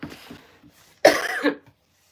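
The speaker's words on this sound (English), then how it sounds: "I'm having a dry cough." A single dry, harsh cough bursts out loudly and close, following a few faint murmurs, then silence.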